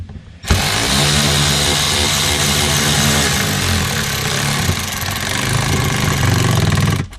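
An electric ratchet drives bolts into plastic nuts behind a front door Molle panel on a Ford Bronco, giving one loud, continuous, close buzzing whir that runs for several seconds before cutting off.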